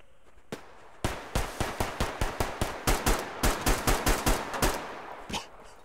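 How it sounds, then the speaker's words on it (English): Gunfire in the shooter game Survarium, a single shot followed by a rapid string of about twenty loud, close automatic rounds in an even rhythm, then one last shot as it trails off. "Oh, shooting at something."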